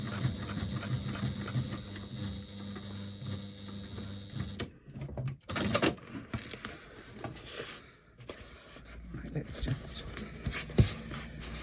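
Sewing machine stitching a line a quarter inch from the edge of a woven bag, a fast mechanical whir in runs broken by pauses and handling noises, with someone talking over it.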